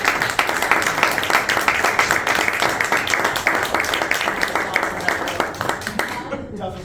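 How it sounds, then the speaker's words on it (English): Dense crowd applause for actors after a play, many overlapping claps, steady and sustained, fading out abruptly near the end. "Can we do another round of applause for our actors?"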